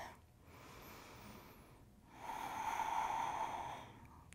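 Slow, deep breathing during a yoga bridge pose, a soft inhale followed by a longer, fuller airy exhale, close and quiet with no talking.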